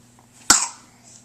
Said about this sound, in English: Oh, there's that cough.